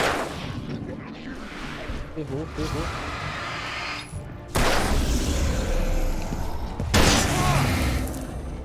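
Gunshots from a weapon in the video game Alan Wake ring out in a few heavy booming blasts over an ambient game backdrop, with someone talking over them.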